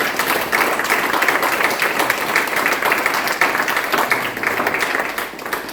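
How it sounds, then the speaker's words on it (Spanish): A church congregation breaks into sustained applause, dense steady clapping filling the space for several seconds at an even loudness. "Den un aplauso al que vive para siempre."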